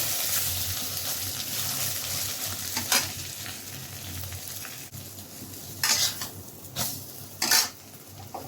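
Egg frying in a pan with a steady close sizzle, punctuated by bursts of stirring and scraping as a utensil clinks against the pan.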